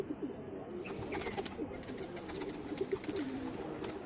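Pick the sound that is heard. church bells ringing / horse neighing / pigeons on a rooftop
pigeons on a rooftop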